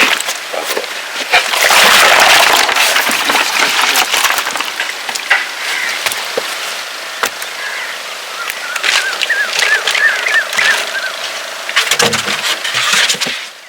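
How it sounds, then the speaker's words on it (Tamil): A box of freshly caught hook-and-line fish is tipped out at a Sunday fish market, giving a loud, close slithering clatter that fades into scattered knocks and handling noises. "பாக்ஸ்ல அழகா அடுக்கி வச்சிருந்த மீன்கள் எல்லாத்தையும் நம்மளுடைய சப்ஸ்கிரைபர்ஸ்க்காக அண்ணன் அப்படியே டமார்னு கொட்டினாரு"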